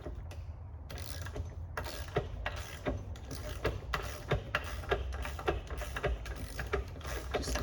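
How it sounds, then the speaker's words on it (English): A socket wrench ratchets off the back end nut on a Janus Retriever tool, a faint steady series of rapid ratcheting clicks with small mechanical knocks throughout. "Just the back end nut with your socket wrench. Remove the nut and washer."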